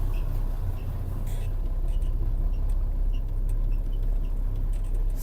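A Mercedes 814 truck, converted from a refrigerated truck to a dump truck, drives slowly out of a garage, its engine idling with a low, steady rumble throughout, heard from inside the cab with occasional light ticks.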